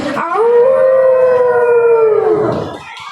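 A single long, wavering howl held for about two seconds, loud and close, voiced by a person imitating a jackal.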